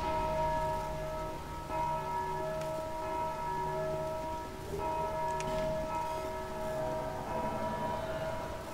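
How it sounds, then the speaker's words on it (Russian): Bells in Dark Souls 2 ringing with a sustained, layered metallic tone that swells and renews in waves about every couple of seconds, steady and moderately loud with no talking. "Опять задел колокольчик."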